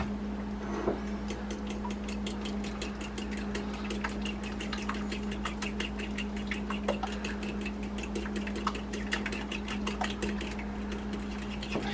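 Egg being beaten with a fork, a quick run of light ticking taps over a steady low hum, continuing evenly throughout with no talking.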